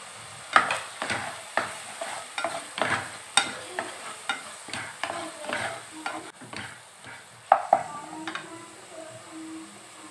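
Tomato masala frying in a pan with turmeric, chilli, coriander and garam masala powders, stirred in regular close scraping strokes about twice a second over a low sizzle.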